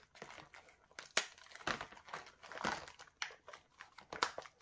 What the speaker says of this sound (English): All let's just peel all this off.